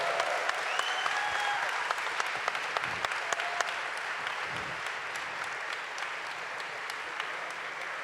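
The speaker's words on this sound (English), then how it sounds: "give him another round of applause." Sustained crowd applause at the Star Wars Celebration Europe 2016 live show for BB-8, a steady dense wash of clapping with a few sharper claps and light cheering throughout, with no speech over it.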